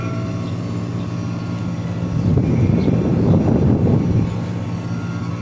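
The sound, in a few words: air conditioner compressor running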